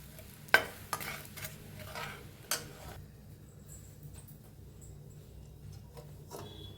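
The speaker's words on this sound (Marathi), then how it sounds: "हे गरम गरम फोडणी आपण चिरमुऱ्यावर ओतूया" Hot spiced oil tempering poured over puffed rice for chivda, a few sharp crackles and a brief sizzle up front that fade to a quiet hiss, no voices.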